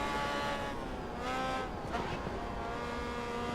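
Race car engine at full throttle in Grid Autosport, a steady, sustained high-revving drone with layered harmonics, held at constant loudness throughout with a slight pitch swell midway.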